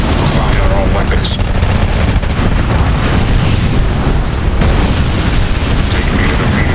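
Red Alert 2 battle with the Mental Omega mod: a loud, continuous roar of weapons fire and booming explosions, with sharp blasts poking out of a dense, rumbling wall of combat noise.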